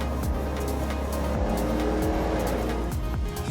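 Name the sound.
cars at Silverstone race track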